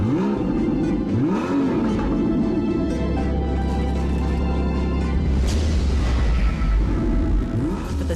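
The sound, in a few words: 2012 Porsche Boxster S mid-engine six-cylinder engine sound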